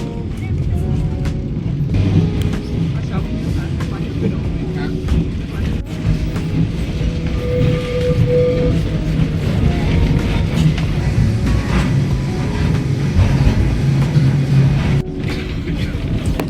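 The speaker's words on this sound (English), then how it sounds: "Last stop of tram 28, and yeah, it was a pretty good ride." Lisbon's tram 28 rumbles steadily from inside a crowded car, with low rolling and track noise throughout and occasional squeals and clunks. Passengers' voices murmur underneath.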